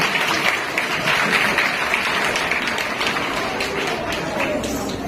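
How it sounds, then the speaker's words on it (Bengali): Students applauding together at a bin inauguration and awareness lecture at Sibpur Hindu, a steady, dense wash of clapping that holds evenly for the whole stretch without pausing. "তোমাদের জন্য একটি বিশেষ করতালি"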